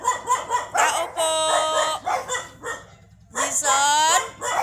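A dog barks repeatedly in a residential neighborhood, with sharp close barks in bursts and a pause, some whining tones, and a person's voice calling out in between.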